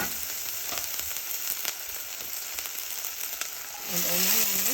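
Ginger and garlic fry in hot cooking oil in a thick-bottomed saucepan, giving a steady close sizzle that swells louder near the end as more goes into the pan.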